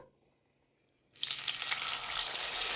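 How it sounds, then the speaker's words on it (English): Vegetable oil heating in a saucepan over medium-high heat, silent at first, then bursting into a loud, steady crackling sizzle that continues to the end. "I'm gonna add a couple tablespoons of vegetable oil"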